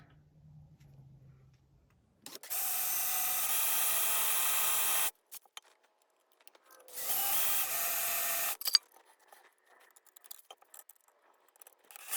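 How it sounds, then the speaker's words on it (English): A power drill whines in two sustained bursts of a few seconds each while drilling out screws on 1964 Suzuki K10 motorcycle parts, separated by quiet pauses with small clicks and handling noise. "try and drill out these screws here"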